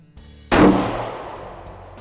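A single loud rifle shot at a Texas buck, fired from a hard blind, cracks sharply and rolls off into a long decaying echo.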